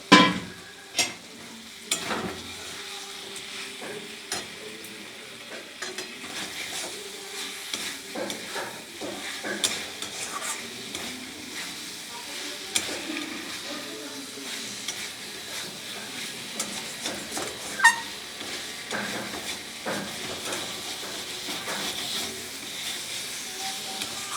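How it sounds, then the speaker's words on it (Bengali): Fish pieces fry and get stirred with spices and potatoes in an oily pan for a stingray curry, a low steady sizzle with irregular spatula scrapes and clinks throughout. "মাছটা দিয়ে ভালো করে মশলার সাথে কষিয়ে নেবো।"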